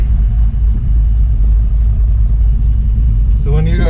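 A 1968 Chevelle with a refreshed LS6 454 V8 rumbles on the move, deep and loud and steady throughout, with a voice coming in briefly near the end.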